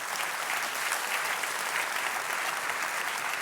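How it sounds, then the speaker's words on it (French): An audience at an award ceremony claps steadily for a prize presenter, a continuous even wash of applause from start to finish with no talking on top. "Vous pouvez les applaudir, hein, n'hésitez pas."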